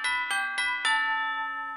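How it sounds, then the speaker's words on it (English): A doorbell chime rings four clear, melodic tones in quick succession, the last note ringing out and fading slowly. "Oh, well, that's my doorbell."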